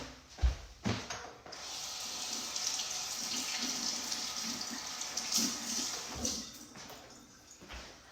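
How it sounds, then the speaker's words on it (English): Kitchen tap running steadily as hands are rinsed of tofu, a continuous close hiss of water with a few splashy bursts and knocks near the start and end, no talking. "I'm going to rinse my hands off really quick so I don't have tofu all over everything."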